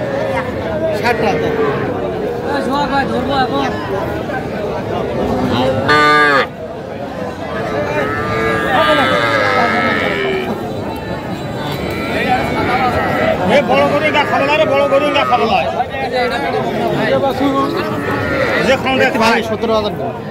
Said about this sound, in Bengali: আমরা দেখছিলাম যে গরুগুলো কিনছেন মমিন ভাই।